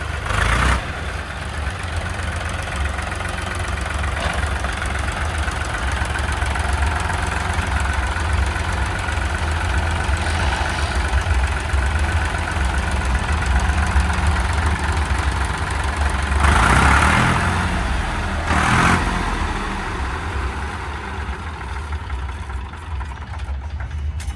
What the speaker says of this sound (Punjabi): ਹੁਣ ਤੁਹਾਨੂੰ ਅੱਗੇ ਪਿੱਛੇ ਕਰਕੇ ਦਿਖਾਉਣ ਲੱਗਿਆ